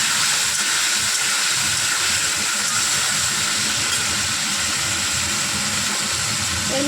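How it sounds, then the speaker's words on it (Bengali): Potatoes fry in hot oil for a kabuli chana dish, giving a loud, steady, close sizzle and hiss that runs unbroken throughout. "দেখো আলু দিয়ে দিচ্ছি, আলুটাকে ভালো করে লাল করে ভেজে নেব।"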